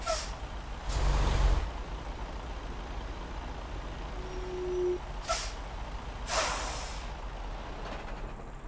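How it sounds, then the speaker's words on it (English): A truck in American Truck Simulator reverses into a parking spot, with a couple of sharp air brake hisses and faint reversing beeps over a low steady engine drone. "I'm gonna back up into the sleep spot."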